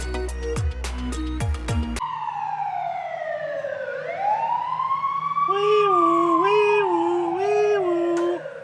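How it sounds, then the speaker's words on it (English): A loud wailing ambulance siren sweeps up and down in pitch as it passes close by, shifting to a faster warble near the end. "the ambulance is passed"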